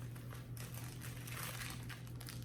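A plastic bag crinkles and rustles as it is opened during an unboxing, soft and close with steady crackling throughout.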